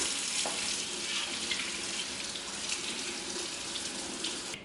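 Tap water runs steadily over sockeye salmon fillets in a sink, a continuous even splashing hiss close by with no voices.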